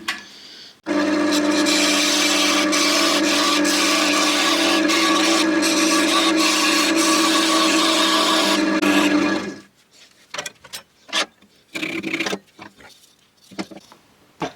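A chestnut wood block is cut with a powered saw in one long, loud, continuous grinding run of about nine seconds, followed by short scattered knocks and handling sounds.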